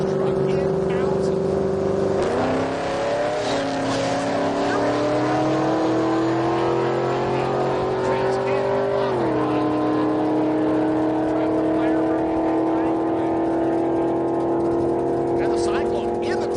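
Bill Kinzer's truck launches down the drag strip at Heartland Park in Topeka, a loud, steady engine roar that climbs through the gears with clear shift breaks, while an announcer talks over it the whole way.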